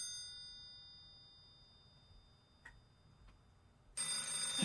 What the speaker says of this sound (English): the sound of a phone ringing